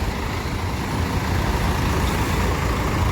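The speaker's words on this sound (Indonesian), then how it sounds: "K360 Bus HD." A Scania K360 HD bus in a parking area: a steady, loud diesel engine rumble with broadband road-vehicle noise, close and continuous, no voices.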